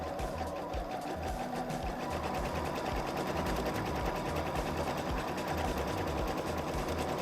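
A sewing machine stitches a short reinforcement seam across the crotch of a garment, a continuous fast, even mechanical chatter running close and steady throughout with no voices.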